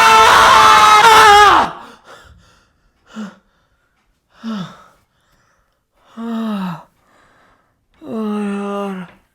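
A person screams loudly and sustained at the start inside a haunted house in a short film, then lets out several shorter gasping, yelping cries separated by silence.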